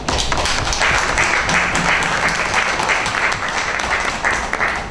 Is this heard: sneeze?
no